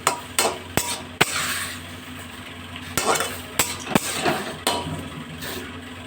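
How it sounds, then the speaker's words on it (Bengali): Tomato chutney with salt and turmeric being stirred in a pan over a high flame, close and fairly loud, with sharp metal spoon knocks against the pan and scraping strokes between them, no talking. "এখন একটু নাড়াচাড়া করে দেবো"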